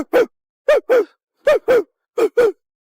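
A person imitates a dog barking, giving seven short, sharp voiced yelps grouped mostly in pairs with brief silences between them, loud and close.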